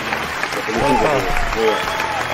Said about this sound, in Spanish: un fuerte aplauso para nuestro amigo César.